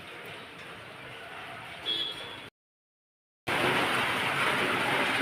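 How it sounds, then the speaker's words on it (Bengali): Soft, steady hiss of light rain, broken by a brief silent gap before the patter resumes slightly louder; no one speaks. "বৃষ্টি কিন্তু ঝিরঝির ঝিরঝির করে বৃষ্টি পড়ে যাচ্ছে"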